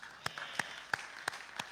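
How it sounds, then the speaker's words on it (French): One person clapping hands at a Sunday church service, five sharp, evenly spaced claps, close and distinct against a quiet room. "je vais applaudir pour vous"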